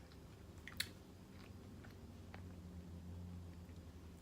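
A keto chocolate peanut butter bar is being chewed close up, with quiet, soft, moist chewing and one brief crisp bite near the start, faint over low background noise.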